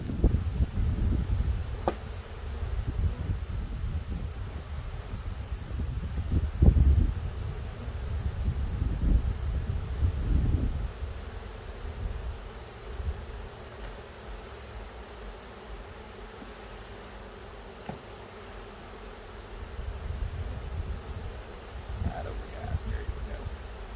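Honey bees buzzing around an open hive box as new bees and frames are installed outdoors, a steady low hum with occasional louder passes near the microphone and light wind noise, no talk.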